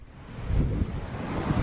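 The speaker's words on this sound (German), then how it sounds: "Ist noch leicht, ne, der Wind." Wind buffets the microphone on a Mediterranean beach facing Gibraltar, a steady loud rumble with gusty surges and a hiss like distant surf, no voices present.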